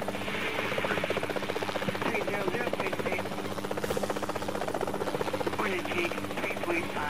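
A helicopter hovers in Helicopter Simulator 2014, its rotor blades thudding in a fast, even beat that stays close and loud throughout while someone talks over it.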